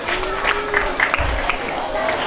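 Hall audience claps to welcome an honoree at a school entrance ceremony, steady applause with a faint voice beneath it.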